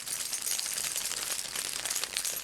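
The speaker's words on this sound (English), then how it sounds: "This is what the keys sound like when the police is running and it's on his hip" A ring of keys jingling as on a running police officer's hip, a continuous bright metallic shimmer and clinking, close and steady throughout with no talking.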